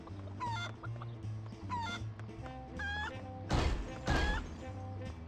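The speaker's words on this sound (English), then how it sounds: "Chicken!" Cartoon chickens in the Ed, Edd n Eddy: The Mis-Edventures video game cluck in short repeated bursts over a steady low game hum, with a couple of louder crashing thumps partway through.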